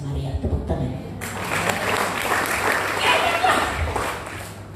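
Congregation applause during a Sunday sermon at an Indonesian Pentecostal church, starting after a brief spoken word and swelling into a loud, sustained clatter of many hands.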